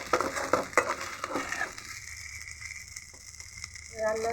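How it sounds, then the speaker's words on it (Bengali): Sweet zarda rice being fried in a pan, with scraping and stirring clatter over a soft sizzle during the first half, then a quieter, steady fry. "জর্দাটা আমি ভালো মতো ভেজে নিচ্ছি।"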